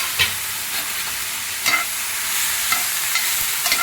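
Bitter gourd dry-roasting in a hot pan without oil, giving a steady soft sizzle with occasional stirring scrapes and clinks throughout.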